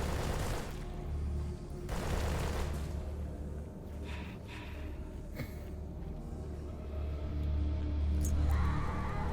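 Gunfire in the video game Bloodhound: rapid continuous bursts blending into a loud, dense roar with deep low rumble, a couple of sharper blasts standing out, sustained throughout.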